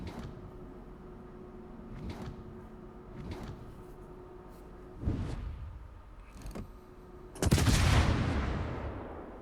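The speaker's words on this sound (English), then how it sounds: "Provide gunfire support for attack aircraft." Naval warfare video game gunfire: a handful of sharp, separated shots at irregular intervals, culminating in a louder, longer blast with a lingering rumble near the end, over a low steady hum.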